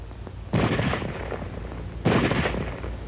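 Automatic weapon gunfire in a small-arms training setting: two sharp, loud bursts about a second and a half apart, each a dense rattling volley over a low background rumble.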